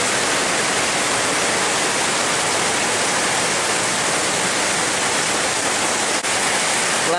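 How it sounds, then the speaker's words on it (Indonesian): Heavy rain pouring steadily next to a town square in Melawi, a dense unbroken roar that fills the whole stretch at high, even loudness, with no voices over it. "Melawi sedang hujan deras, guys."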